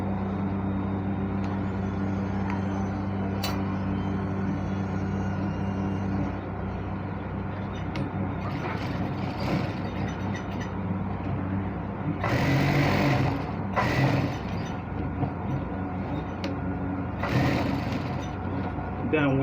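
Sewing machine stitching a single welt pocket on trousers, a steady continuous motor hum running through the clip with brief bursts of higher noise, while a person talks over it.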